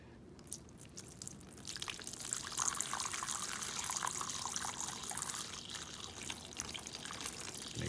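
Water is poured into a tray to bottom-water potted tomato seedlings, a soft, faint, continuous trickle and splash that builds after a quiet start and keeps running steadily.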